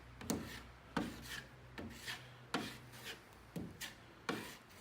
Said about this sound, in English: back with our joint compound, we're just going to take some on the end of our putty knife,